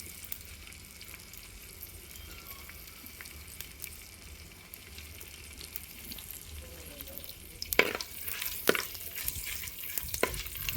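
Coriander seeds, cumin and dried red chillies fry in a pan, starting as a faint low hiss, then a louder crackle and scraping clinks from stirring after the midpoint.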